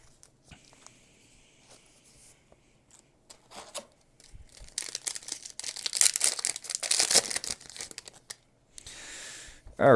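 A foil Magic: The Gathering booster pack torn open, close and loud, with sharp crinkling and ripping bursts following a few quieter rustles and handling taps.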